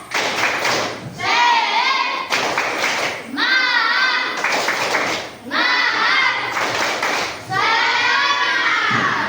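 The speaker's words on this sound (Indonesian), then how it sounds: "Sekarang tepuk semangat lagi. Tepuk semangat." Primary school classroom of children doing a rhythmic spirit clap routine, loud bursts of clapping alternating with chanted group voices in repeating cycles, close and energetic.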